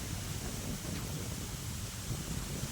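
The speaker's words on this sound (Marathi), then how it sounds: "आज बी वारच आहे, वारा सुटलेलं आहे." Strong wind sweeping across an open farm field, a continuous low roar and rumble of gusts buffeting the microphone, with no talk.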